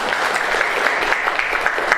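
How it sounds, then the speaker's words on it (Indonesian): Schoolchildren in an Indonesian classroom clap together in a loud, steady rhythm with clear, evenly spaced beats running through the dense clapping. "tepuk tangan untuk kita semua."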